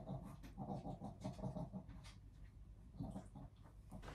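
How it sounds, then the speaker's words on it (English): A female dog pants and snorts in a pig-like way, with rapid, breathy rhythmic bursts that stay close and fairly steady throughout, no voices present. "Can you hear my dog? She sounds like a pig."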